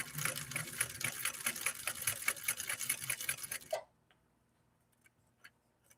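A Nordic-Husqvarna automatic sewing machine runs a zigzag stitch in a rapid, even mechanical chatter for about four seconds, then stops abruptly, leaving near silence broken by a few faint clicks.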